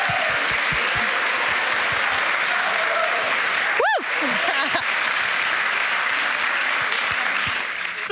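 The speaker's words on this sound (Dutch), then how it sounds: "geef ze een hard applaus" Loud, sustained applause from a festival audience at a newspaper column event, dense clapping filling the hall with a brief dip near the middle and a voice heard faintly underneath.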